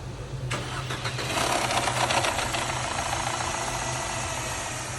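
A Mercedes W209 with an M271 engine cranks and catches after a short moment of quiet, then runs at a steady, slightly rough idle, close and alone.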